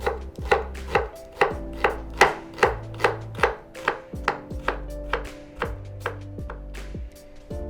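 A knife chops rhythmically on a cutting board, about a dozen crisp, evenly spaced strokes slicing an onion, close and clear with no talking.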